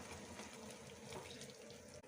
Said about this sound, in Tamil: தேவையான தண்ணி எடுத்துக்கலாம்.